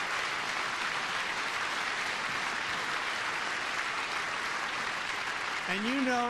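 Members of Congress applauding during a presidential address to a joint session, a dense continuous wash of clapping that fills the chamber, with a voice rising at the very end.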